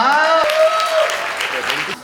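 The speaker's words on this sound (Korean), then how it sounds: "박수 한번 해주세요." Guests clap at a Korean first-birthday party (dol), the applause starting close by under a voice and continuing steadily for about two seconds.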